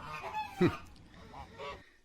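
Geese or ducks honking on the water, a few short nasal calls with one louder honk near the middle, heard at moderate distance over a quiet outdoor background.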